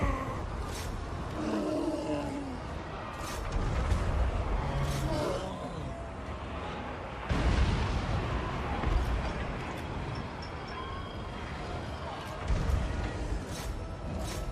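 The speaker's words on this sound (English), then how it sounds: "These shots from the Hell Cannons," Hell Cannon artillery fire in the Total War: Warhammer 2 strategy game, Warriors of Chaos campaign: several heavy booming shots land at irregular intervals over a continuous rumbling battle din, with no speech.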